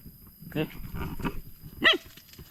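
Outdoors near a trap site, a dog barks sharply a couple of times, with faint low voices and rustling between the barks.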